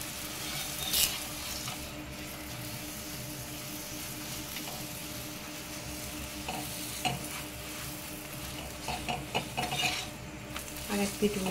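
A carrot and potato paratha fries in a pan, giving a steady sizzle throughout, with occasional clinks and scrapes of a utensil against the pan near the end.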